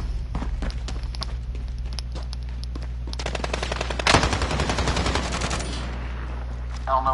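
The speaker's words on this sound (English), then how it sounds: "I don't know what kind of shooting that was" Rapid bursts of video game gunfire crackle from about three seconds in, dense and loud with a heavy hit near four seconds, over a steady low hum and earlier scattered clicks.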